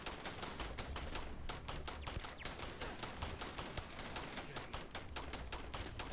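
A turret fires nonstop during a Starfield game session: a dense, rapid rattle of shots with no letup, steady and fairly loud throughout, with no speech.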